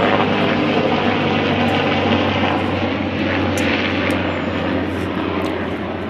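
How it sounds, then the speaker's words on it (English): A propeller aircraft drones loudly overhead above a container vegetable garden, a steady engine roar that slowly fades toward the end, with no talk. "It's an aircraft going on."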